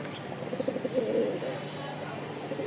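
Pigeons, including white ones offered for sale, coo softly in a rhythmic low burble close by, with someone talking over them.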